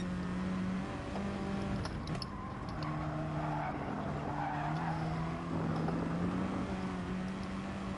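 Race car in Gran Turismo Sport sliding on dirty tyres, a steady engine drone with scrubbing tyre noise as it struggles to turn, continuous and close.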